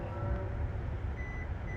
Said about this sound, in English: You hear those beeps?